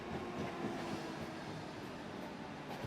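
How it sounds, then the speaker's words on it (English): Train approaching a station in Kustendil, a faint, steady low rumble of rolling rail cars with soft wheel clatter, distant and continuous, no voices. "The train approaches Kustendil, the town in which I was born."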